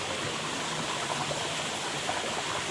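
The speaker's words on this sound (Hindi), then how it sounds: "यहाँ पे झरना जो है गिरा है" Waterfall at a picnic spot near Chandrapura, a steady broadband roar of falling water that stays even and constant throughout, fairly close, with no talking.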